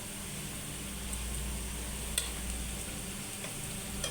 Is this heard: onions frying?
yes